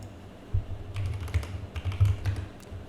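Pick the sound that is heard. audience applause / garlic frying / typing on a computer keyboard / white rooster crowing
typing on a computer keyboard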